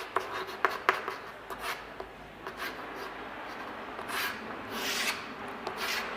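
Pen or chalk scratching and rubbing across a writing surface in a maths lesson, a run of short strokes and longer scraping sweeps, close and moderately loud, with no talking.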